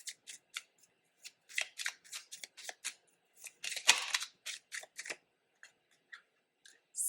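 Tarot cards shuffled by hand make close, soft papery riffles and flicks in irregular bursts, with one longer fluttering riffle partway through.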